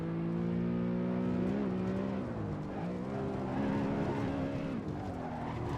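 A BMW E92 M3 engine revs hard on a Nürburgring lap, its steady high-pitched drone rising and dipping through throttle changes, with tire noise underneath, heard continuously from inside the car.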